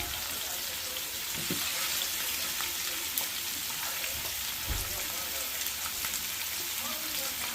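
Washed country chicken pieces dropped into a hot tempering of spice powder for naati koli saaru, giving a steady broad sizzle throughout with a couple of louder pops and spatters.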